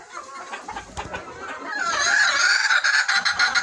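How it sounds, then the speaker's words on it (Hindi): Desi chickens clucking on a poultry farm, a flock of close, rapid overlapping clucks and cackles that grow louder and busier in the second half. "ये देखें ये सब देसी मुर्गियाँ"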